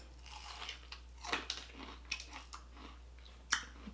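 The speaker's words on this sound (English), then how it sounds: "It sounds like they crunchy and good" Crunchy fried onion rings are bitten and chewed up close, giving a series of sharp, irregular crunches over a low steady hum.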